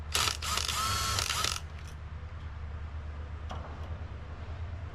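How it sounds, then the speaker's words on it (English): Phillips screwdriver turning out handlebar grip screws on a minibike, a short burst of quick ratcheting clicks up close, then quiet hum with a couple of faint ticks, no talk. "simple as taking a Phillips head and running these screws out"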